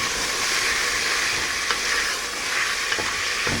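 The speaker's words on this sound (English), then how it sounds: "let's give it a little mix" Seasoned beef sears in a pot and is stirred, a steady loud sizzle throughout with a few scraping knocks of the spoon near the end, no voices.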